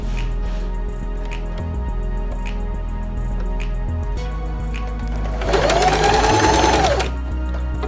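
A home sewing machine stitches an automatic one-step buttonhole, giving a close run of rapid rhythmic needle clatter, with a louder whirring burst of fast stitching near the end and no talking.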